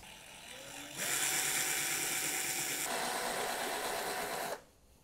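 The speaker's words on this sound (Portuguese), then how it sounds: "Aí eu vou utilizar uma broquinha fininha, mais ou menos uns 2 ou 3 milímetros" A thin drill bit of about 2 to 3 millimetres bores a hole into a Kombi's broken steering wheel lock, a steady high whine that starts abruptly, holds for over three seconds with a slight change in pitch midway, then stops.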